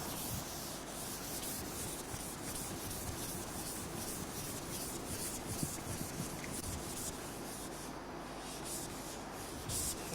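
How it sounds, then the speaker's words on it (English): Steady dry rubbing of a diagram off a lecture board, a continuous scratchy swish lasting about ten seconds, fairly faint and without speech. "Now, I think I can rub off this diagram."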